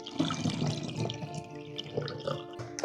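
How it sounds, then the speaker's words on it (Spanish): Water is poured into a bottle while a drinkable stomach-soothing balm is being made, giving a steady, fairly quiet trickle and splash that runs through the whole moment with no talking. "lo que queda, lo completamos con agua."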